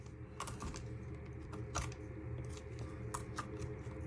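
Knife dicing butternut squash into small cubes on a board for rosemary and butternut squash soup, a few sharp chopping taps spread over a steady low kitchen hum, close and fairly quiet.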